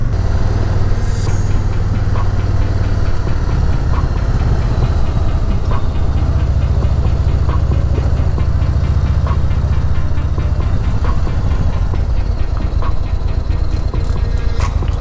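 A 2018 Yamaha Star Venture Transcontinental motorcycle rolls through town, its engine a steady low rumble that holds near and loud from start to finish with no voices.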